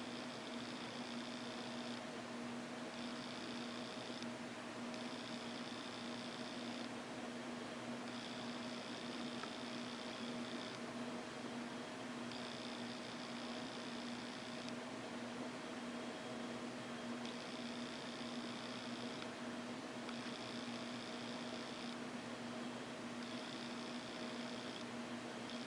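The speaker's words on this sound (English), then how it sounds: "the hard drive is grinding along" Computer hard drive grinding while Windows 8 boots, a constant whirring hum with intermittent bursts of higher buzzing activity, steady and moderately loud throughout.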